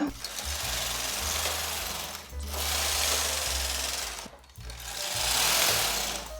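A domestic knitting machine carriage is pushed across the needle bed row after row for a short-row top, giving three long rasping mechanical sweeps with a low rumble and short pauses between passes.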